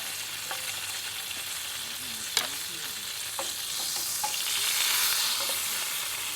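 Thick bread fries in a pan for a full English breakfast outdoors, giving a steady, close sizzle with a few sharp clicks and scrapes. The frying swells a little louder toward the end, and no one speaks.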